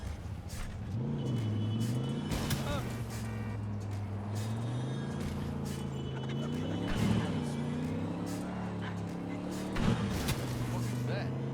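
A car drives in Cyberpunk 2077, its engine humming steadily and rising and falling in pitch as it speeds up and eases off, with a few sharp knocks, heard continuously at close range.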